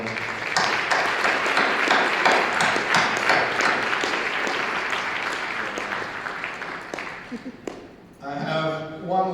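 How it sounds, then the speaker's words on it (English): Audience applause for veterans at a Southwest Florida sustainability summit, a steady room-filling wash of clapping for about eight seconds that fades out as a voice begins speaking. "let's just applaud our veterans here in Southwest Florida."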